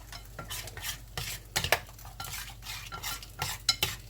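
Nettles and other ingredients being stirred in a pan, with a spoon scraping and clinking against the metal in quick repeated strokes, close up and with no one talking.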